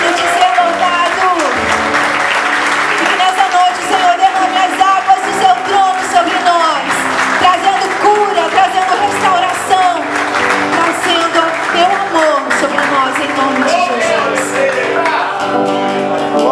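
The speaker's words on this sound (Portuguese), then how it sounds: "levante suas mãos e aplauda ao Senhor" A church congregation applauds in praise, steady clapping filling the room throughout, with voices and sung or spoken tones running over it.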